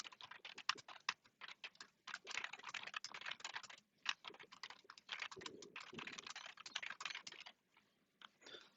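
Code is typed on a computer keyboard in quick, irregular bursts of soft clicking keystrokes, close and fairly quiet, with brief pauses between runs of keys.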